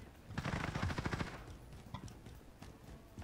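Rapid automatic gunfire from a Modern Warfare match on the Sea Drilling Rig map, a dense loud burst early on that thins into scattered distant shots.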